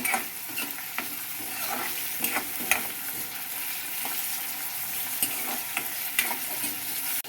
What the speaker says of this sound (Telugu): నాలుగు పచ్చిమిరపకాయలు సన్నగా తరుక్కుని ఈ ఆయిల్లో వేసుకుని వేయించుకుంటున్నాము